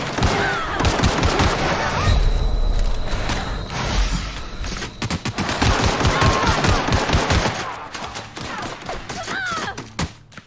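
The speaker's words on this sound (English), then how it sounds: "Oh, he's shooting at me." Rapid bursts of automatic gunfire crackle through a firefight in The Outer Worlds on the Switch, dense volleys with thuds and mechanical clatter, loud and continuous for most of the stretch before thinning toward the end.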